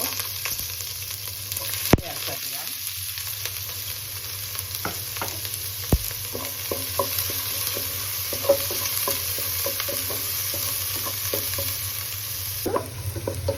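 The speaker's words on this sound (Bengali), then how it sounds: "ভেজে নিচ্ছি এবার পেঁয়াজ কিছু" Onions sizzling in hot oil in a pan after dried red chillies, for a Bengali drumstick stem curry, a steady low fry with occasional clinks of a spatula stirring, no talk.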